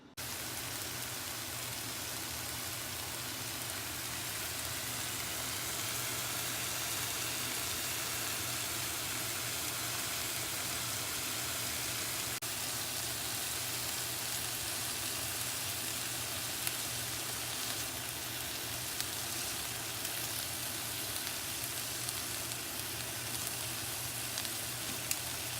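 Beef steak sears in a hot pan, producing a continuous, even hiss and crackle like heavy rain that holds steady and close for the whole stretch, with no voices.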